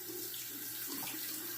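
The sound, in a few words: water running from a tap to wet a razor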